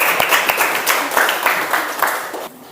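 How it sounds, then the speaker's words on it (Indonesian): A classroom of students bursts into brisk group clapping, loud and close with rhythmic peaks, stopping abruptly near the end. "Kasih tepuk tangan pada."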